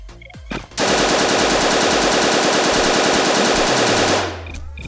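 Sustained automatic gunfire in a video game, a loud, dense burst of rapid shots that starts abruptly and keeps hammering for about three and a half seconds before cutting off.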